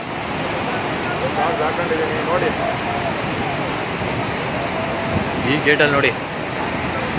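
Water rushing through a gate at the Bhakra Dam in Himachal Pradesh, a broad, steady roar heard from a distance while someone talks over it throughout.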